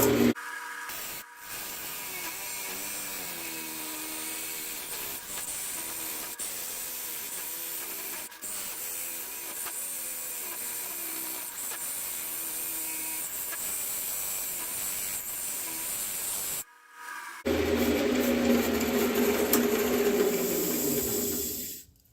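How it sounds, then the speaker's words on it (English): A parting tool cuts into a spinning canarywood vase on a lathe, giving a steady, loud scraping hiss that runs continuously with brief pauses, then grows harsher and fuller near the end. "So now let's work on with our parting tool, getting this parted off the lathe."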